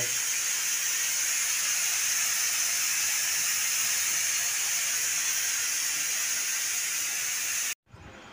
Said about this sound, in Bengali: বন্ধুরা, এখন প্রেসারে সিটি পড়ছে।